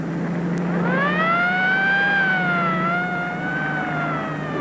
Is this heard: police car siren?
yes